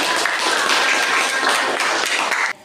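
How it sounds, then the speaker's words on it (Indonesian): A crowd claps together in a dense, steady burst of applause that stops abruptly at the end. "Tepuk tangan."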